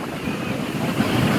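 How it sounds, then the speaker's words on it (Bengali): Sea waves at Golden Beach in Puri, a constant washing roar of surf mixed with wind buffeting the microphone, steady and close, with no talking. "আমাদের পরিচিত সেই ঢেউ, সমুদ্রের ঢেউ।"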